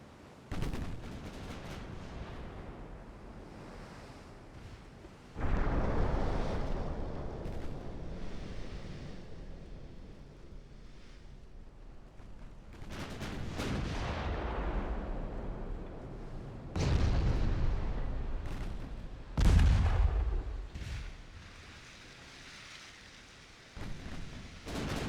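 Battleship 11-inch guns fire in the naval warfare game Ultimate Admiral Dreadnoughts: about three heavy booming salvos, each struck hard and then rumbling away, with a low sea-like wash in the quieter gaps.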